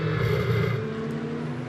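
A GT race car brakes hard into a corner during free practice at Barcelona, a brief, loud, close engine note with a strong buzzing tone that eases slightly as it slows.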